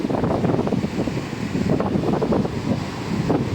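Wind-driven sea waves break at a shoreline pilgrimage site, a loud, sustained churning roar with repeated surges and heavy wind rumble across the microphone.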